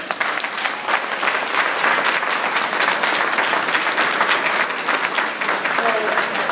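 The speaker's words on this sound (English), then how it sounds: "Let's give him a round of applause." An audience at an honoring ceremony for Tyson Beckford breaks into loud, sustained applause, a dense wash of clapping that holds steady throughout with no pause.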